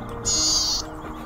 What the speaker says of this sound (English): now a classical male with its buzz, then cheep